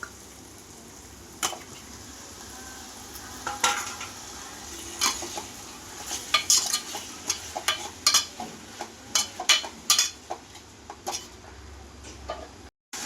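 Onions sautéing in a pan for an egg gravy while tomatoes go in, a low steady sizzle broken by sharp spatula scrapes and clinks that grow busier and louder toward the end, close by with no talking.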